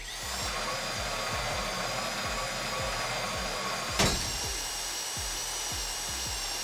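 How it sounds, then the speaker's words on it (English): Power drill boring into a safety deposit box during a bank heist in the video game GTA 5, a continuous loud whirring grind with a steady rhythmic pulsing and a sharp clank partway through. "Ah, the drill's getting hot."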